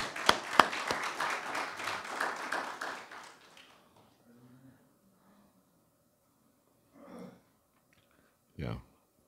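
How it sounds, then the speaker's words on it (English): A church congregation claps briefly in praise, a short burst of hand claps with a few sharp individual claps that fades out within a few seconds, followed by quiet and a couple of faint noises. "Let's give them a hand clap of praise, guys."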